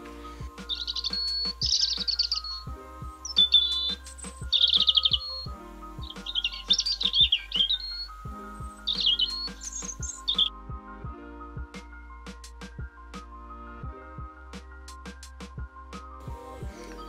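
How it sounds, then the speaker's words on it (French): A common blackbird sings rich, fluting phrases separated by pauses, with sharper chirps and clicks scattered throughout over a quiet background. "Le merle noir est l'un des plus grands chanteurs de nos jardins."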